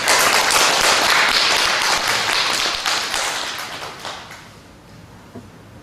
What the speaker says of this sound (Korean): 힘찬 격려의 박수를 부탁드리겠습니다